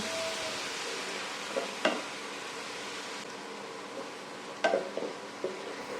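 Spices cooking down in oil in a pan: a soft, even sizzle with a few spatula scrapes and knocks against the pan at irregular moments, no talking.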